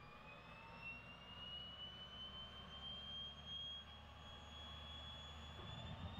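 A JetExec turbine engine spinning up after start, a rising whine that climbs steadily in pitch over a broad roaring rush, heard close and alone with no talking.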